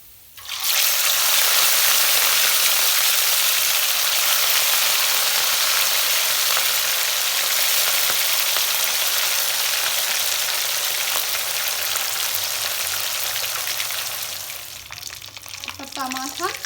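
Fish pieces fry in hot oil for a mustard fish curry, a loud, sustained bright sizzle that surges in at once and holds steady before easing off at the end.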